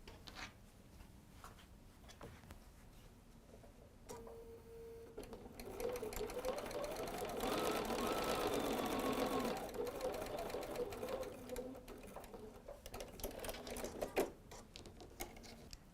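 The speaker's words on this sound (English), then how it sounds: "Let's go sew that again." A sewing machine stitches a quilt-as-you-go baby bib, a soft, steady mechanical whir that builds into a faster, louder run in the middle, with light handling noises around it.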